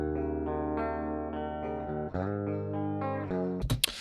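Unprocessed direct-input electric guitar for a particular band's tone, a clean sustained chord progression with ringing strummed chords changing every half second or so, ending in a brief scratchy muted strum.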